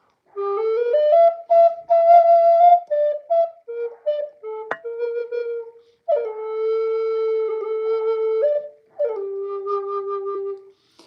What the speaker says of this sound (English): This was the other flute I mentioned.